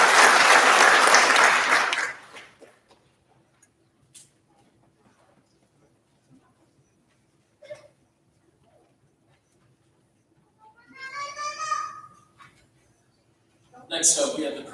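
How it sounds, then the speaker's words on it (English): An audience at a Rotary awards ceremony claps loudly for the award recipients for about two seconds, then the applause stops abruptly, leaving near silence broken by a few faint, scattered sounds. "a round of applause for these recipients"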